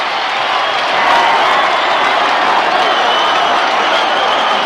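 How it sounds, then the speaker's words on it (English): A rugby league grand final crowd cheers wildly after a goal, a loud, dense, sustained roar of cheering and clapping that fills the whole stretch without letup. "The crowd have gone wild."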